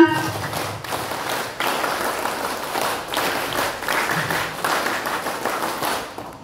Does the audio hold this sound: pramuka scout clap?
yes